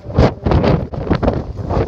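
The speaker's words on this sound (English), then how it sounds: "it's crazy windy out here" Strong gusts of wind batter the microphone in heavy, roaring buffets, loud and close, with no talking, outdoors at a car drifting practice.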